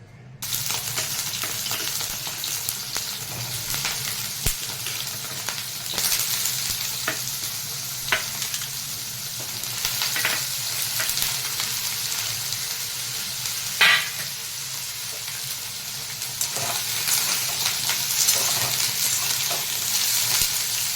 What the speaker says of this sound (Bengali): দেখুন লাল লাল করে ভাজা হচ্ছে।